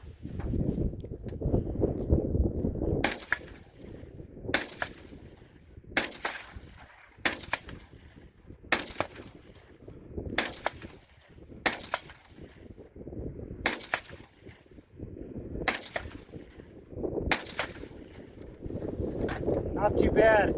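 Sharp 5.56 rifle shots at about 100 yards ring out one at a time at a steady, unhurried pace, about a dozen in all, over wind noise and low rumble.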